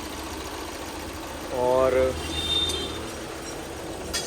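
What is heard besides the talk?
Tata Nano car engine idling after engine flush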